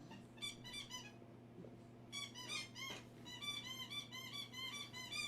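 Rhythmic high squeaking from a pet chewing on something, coming in repeated bursts with a short pause near the middle, fairly close against a steady low hum.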